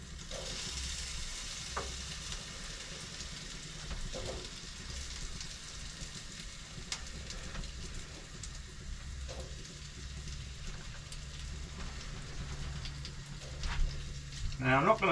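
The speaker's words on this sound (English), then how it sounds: "Or as we used to say, frying." Potato pieces fry in a pan in a cabin kitchen, a steady moderate sizzle with occasional stirring clicks and scrapes, heard close and alone.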